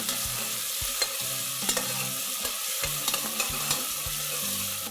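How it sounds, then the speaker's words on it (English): Ginger, garlic and coriander paste sizzles steadily in hot oil for a mutton curry, with repeated spoon scrapes and stirring clinks over a constant frying hiss. "Fry this till the raw smell goes off."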